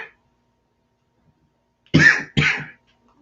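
Two sharp coughs close to the microphone, quickly one after the other, after a long stretch of near silence.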